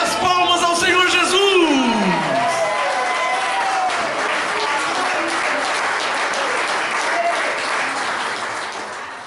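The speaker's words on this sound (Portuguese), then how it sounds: "Cadê as palmas ao Senhor Jesus?" Church congregation applauding after worship singing, a dense sustained wash of clapping mixed with cheers and crowd voices, loud and close throughout, with singing fading out at the start.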